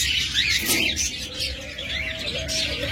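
Caged lovebirds for sale, kept near doves, give a scatter of thin, high chirps and tweets over a low background murmur at moderate distance, with no one speaking.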